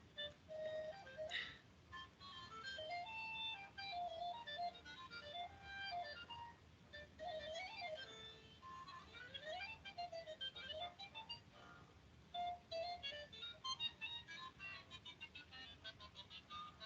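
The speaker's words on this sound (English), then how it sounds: "That's gotta be that's an accordion, isn't it?" Accordion music heard on a tour through Germany and Switzerland, a faint, distant melody with wavering tones playing on continuously without talk.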